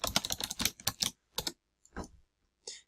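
Rapid keystrokes as a password is entered on a computer keyboard, a fast burst of clicks followed by a few separate taps and a final key press, close and clear with no talking.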